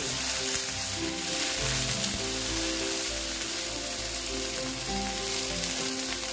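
Okra frying in oil with salt, giving a continuous soft sizzle and crackle that sounds a little like rain, heard alone without voices.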